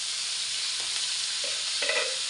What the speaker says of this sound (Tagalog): Lagay natin yung sibuyas at bawang.